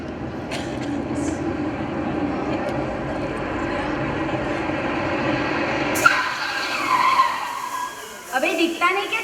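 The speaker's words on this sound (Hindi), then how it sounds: "ओ मैडम, अपने सामने से आके गाड़ी ठोक दी है।" A staged car skid and crash in a student street play: a long, loud tyre screech builds for several seconds, ends in a sharp impact, and then voices break out in argument.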